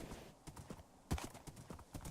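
A horse's hoofbeats in the Minecraft modpack TerraFirmaGreg, a steady series of close, crisp clops with one heavier thud midway, no talking over them.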